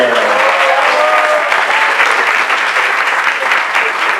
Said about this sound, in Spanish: Entonces un aplauso para Iván también